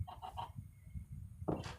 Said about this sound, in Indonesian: Ini ngapain sih ayam ini? Mau kabur?